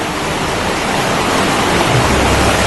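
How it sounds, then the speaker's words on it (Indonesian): A flooded river rushes fiercely past a swaying bridge, a loud, dense, unbroken roar of churning water close by, with no voices. "Suara gemericik air yang ganas dan gerak jembatan"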